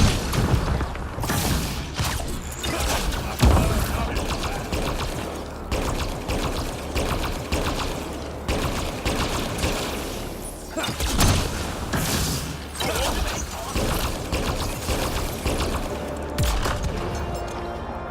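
Turret fire in Mass Effect: Andromeda aboard a derelict Remnant ship on Elaaden, repeated heavy booming bursts and thuds over a constant rumbling game soundscape, loud and dense across the whole stretch.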